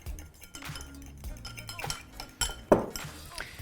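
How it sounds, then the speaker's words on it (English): Dressing whisked with a fork in a bowl, quick clinks and scrapes of metal on dish, a few sharper taps near the end, close by with some talk in between. "now I give it a whisk with a fork."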